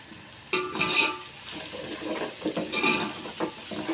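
Onion, ginger-garlic paste and garam masala frying in a pan for chicken, a steady sizzle broken by scraping stirs and clinks of a spoon against the pot, with no talking.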